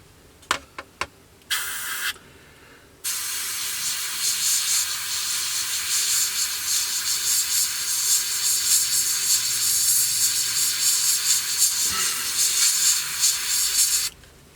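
An airbrush sprays paint on a 1/48 Airfix Sabre F4 model, opening with a few short hissing bursts, then a long steady close hiss of about eleven seconds before cutting off, with no talk.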